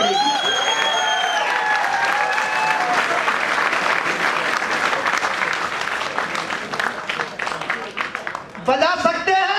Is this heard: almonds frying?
no